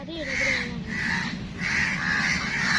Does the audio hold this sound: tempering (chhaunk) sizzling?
no